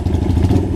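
A small 1973 Honda CL175 motorcycle engine runs cold and is revved, giving a steady, loud low-pitched drone with a faint mechanical clatter and no pauses.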